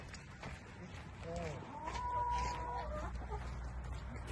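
Backyard chooks clucking as they are fed after eggs are collected, a few soft harmonic clucks and calls in the middle of the clip over low rumble, with people talking nearby.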